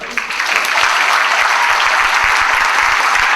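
Sustained applause from a debate audience after a speech, a full crowd of hands clapping continuously and loudly, building quickly at the start and holding steady to the end.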